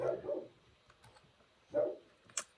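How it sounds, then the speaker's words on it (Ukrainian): Dogs bark a few times in short bursts at a moderate distance, separated by quiet stretches, with a brief sharper click near the end. "звертайте увагу, у мене просто собаки"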